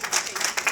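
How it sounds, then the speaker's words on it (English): Audience applause at a Weird Science stage show at the Shock Stock 2019 convention as a young volunteer is called up, a brief burst of crowd clapping, fairly close and lively. "Let's give him a round of applause."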